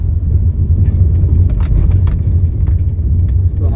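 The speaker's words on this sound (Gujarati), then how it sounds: "અહીંયા પણ ખૂબ ટ્રાફિક રહે છે" Road traffic rumbles past at the edge of Pavi Jetpur on the Chhota Udaipur road near an underpass, a loud, steady engine drone from nearby vehicles with brief higher whooshes as they go by.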